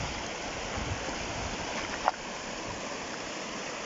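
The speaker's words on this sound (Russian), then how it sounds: "Вон ручей какой живописный впадает." Mountain stream flowing into a river in the Khakassia highlands, a steady rushing water sound, fairly quiet and constant, with one brief knock partway through.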